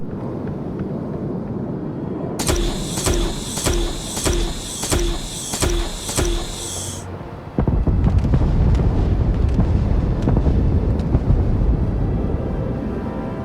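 Weapon fire and explosion effects from a modded Starfield weapon: a rapid series of sharp, evenly spaced metallic blasts, then a deep, loud rumbling explosion that keeps roaring, with no talking.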